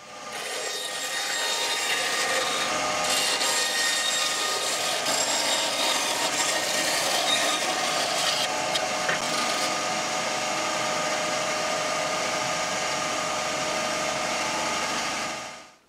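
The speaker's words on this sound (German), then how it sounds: "Und das hier schneiden wir uns jetzt mal an der Bandsäge heraus." A band saw cuts steadily through a wooden board, a loud continuous rasping whine that holds evenly for the full stretch before cutting off abruptly at the end, with no talking.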